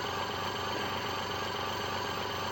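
Two modified brushless DC motors in a looped self-charging setup idle together, giving a steady, even mechanical hum with a faint rapid flutter, close and continuous with no voices.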